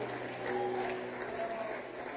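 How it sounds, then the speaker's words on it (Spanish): A church congregation applauds during a worship service, with a short burst of moderate clapping and a faint tonal hum underneath. "dele más aplauso al Señor"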